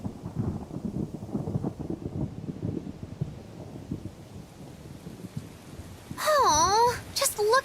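Rain and thunder in Tales of Berseria, a low rumbling storm with steady wash under spoken dialogue, followed by a louder bright swooping sound near the end.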